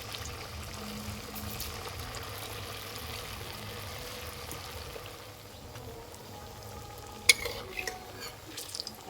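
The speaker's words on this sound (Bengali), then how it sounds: "মিষ্টিগুলো ভাজার জন্য তেল খুব ভালো করে গরম করে নিয়েছি" Homemade semolina sweets fry in very hot oil with a continuous soft bubbling sizzle, followed later by a few light clinks and scrapes of a utensil against the pan, with no voices.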